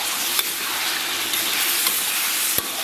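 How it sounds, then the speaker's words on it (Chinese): Chopped chicken hearts stir-fried in a wok after chili sauce goes in, a loud, steady sizzle with occasional sharp scrapes of the spatula, close and without voices. "然后咱们把切好的鸡心给它下里边， 咱们给它简单煸炒一下"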